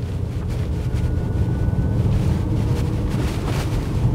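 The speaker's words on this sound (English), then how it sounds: "it pipes in, or it's supposed to pipe in, engine noise into the cabin" Artificial engine sound piped into the cabin of a Ford Mustang Mach-E electric SUV, a steady low droning rumble that swells slightly while driving, with wind-like road noise beneath and no talking.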